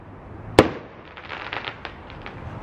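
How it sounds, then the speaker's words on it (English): Homemade fireworks at a backyard display: one sharp, loud bang followed by a series of fainter crackling pops and fizzing bursts trailing off over the next couple of seconds. "I guess we won't do fireworks anymore with Emilia, okay?"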